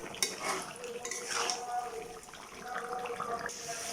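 Potatoes and beef are stirred and sautéed in a pot, with faint clinks and scraping of a utensil against metal and a soft background sizzle, fairly quiet and close.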